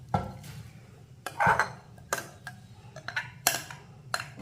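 Onion and green chili being mixed into ragi puttu in a bowl, with a spoon scraping and clinking against the dish in scattered, moderately loud strokes.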